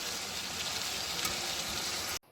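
Hilsa fish head and roe fry in hot oil with a steady, dense sizzle that holds close and even for about two seconds, then cuts off abruptly.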